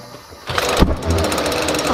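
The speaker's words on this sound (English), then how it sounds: "the propane just built up, and then it just like all exploded out in a big fireball when I turned the air on" Built-up propane in a homemade jet engine tube bursts out as a sudden whooshing fireball after a quiet moment, peaking sharply, then settling into a loud, rough, sustained roar.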